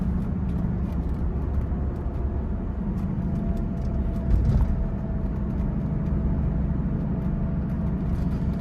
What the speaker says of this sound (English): we'll do a little downshift